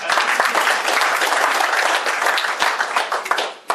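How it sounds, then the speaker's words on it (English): A chamber of commerce coffee audience claps loudly and close, a dense burst of hand claps that stays strong for several seconds before thinning out and ending with a few last claps. "Another round of applause for the good doctor."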